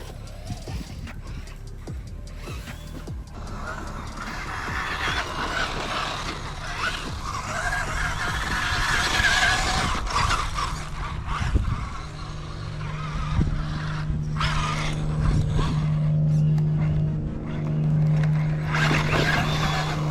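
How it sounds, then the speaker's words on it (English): Vanquish H10 Optic RC trail buggy crawling over rock faces outdoors, a whirring electric motor with scrabbling tires and gravel crunch that builds louder and more continuous toward the end, no talking. "Watch this buggy rip up the hill."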